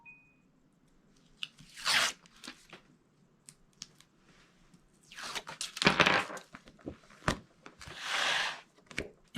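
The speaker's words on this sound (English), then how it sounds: "So I am just peeling away my tape backers" Tape backing paper peeled off liner pieces while making over a small Dollar Tree hardbound mini journal: several close, crisp tearing rips in bursts with small crinkles and taps between, quiet otherwise.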